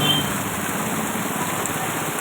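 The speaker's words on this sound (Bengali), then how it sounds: "কি আরে বৃষ্টি, প্রচণ্ড বৃষ্টি মধুপুরাতে" Heavy rain pours steadily onto a flooded, knee-deep street in Madhupur, a dense, even wash of close downpour with no let-up and no voices.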